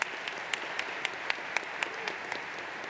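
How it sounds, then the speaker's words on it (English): Applause from an audience at the NeurIPS 2018 machine learning conference, a steady wash of clapping with a few sharper individual claps standing out at a regular pace, moderately distant and fairly soft. "A round of applause."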